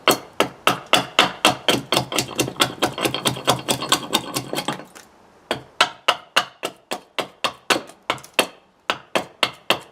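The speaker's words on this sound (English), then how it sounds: "just so your axe has got enough space to follow through" Rapid, steady chopping of eucalyptus wood with an axe while shaping a bowl, dozens of close, sharp knocks at a quick even rhythm, continuous at first, then in slightly looser bursts.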